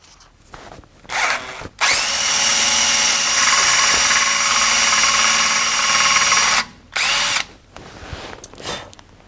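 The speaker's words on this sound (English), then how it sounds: "Let's see if I can drill into that." A power drill whines in short bursts, then runs for a long steady stretch grinding into a hard metal bolt on a 1973 Ford F100's front brakes, stops, and gives one more brief burst.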